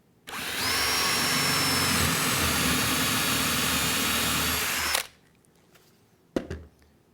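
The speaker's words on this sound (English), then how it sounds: "Next, we can drill one hole." A power drill bores a hole in wood through a drill guide, a loud steady whine for about four seconds before it stops, followed by a brief knock.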